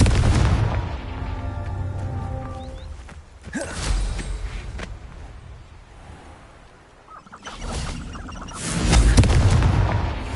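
Confringo fire-blast spells cast in combat in Hogwarts Legacy, several booming bursts spaced a few seconds apart, loud and close with decaying tails between them.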